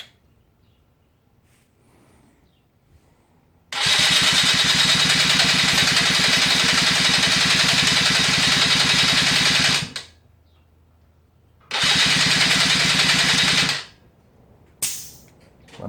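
A two-stroke engine that starts poorly fires up loudly after cranking and runs at a steady buzzing pitch for about six seconds, cuts out, then restarts briefly and dies again, ending with a short final burst.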